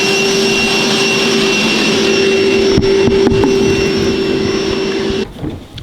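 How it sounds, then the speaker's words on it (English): A vacuum cleaner roars steadily and loud while cleaning the floor of a Corvette C7, with a high whine and a few bumps and clunks from the nozzle, before it shuts off and winds down near the end. "I'm just gonna quickly vacuum that up"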